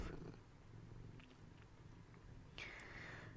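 A house cat's soft, low purring rumble close by, continuous and quiet, with a brief higher chime-like ring of its bell near the end.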